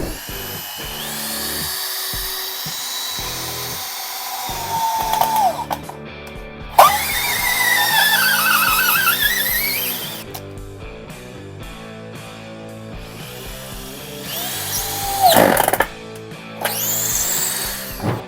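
A Makita HP0300 cordless impact drill-driver runs in loud bursts close up, its motor whine rising and falling between short stops and restarts, with brief clicks of the trigger and chuck, no talk.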